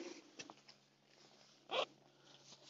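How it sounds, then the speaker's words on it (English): The L-shaped zip on a one-person ultralight trekking tent makes a brief zipping burst near the end, close and clear over quiet outdoor background. "it's an L shape zip, so it just opens at one side"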